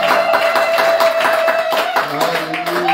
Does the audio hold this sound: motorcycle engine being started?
no